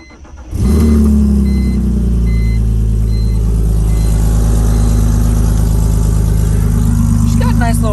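A BMW E46 engine fires up and settles into a loud, steady, deep idle rumble close by, holding evenly throughout with no talk.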